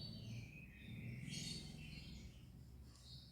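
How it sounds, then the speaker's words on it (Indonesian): Birds chirp softly in a sunny park with children's play areas and huts in Kenten Laut, Banyuasin, near Palembang, with faint high calls under a steady low background hum. "suara burung-burung berkicau"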